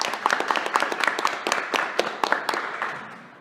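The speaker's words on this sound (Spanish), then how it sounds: "Así que un aplauso, chiquillos" Audience applause at a novel presentation in a library in Santiago, a dense, steady burst of many hands clapping close by for a few seconds, fading slightly toward the end.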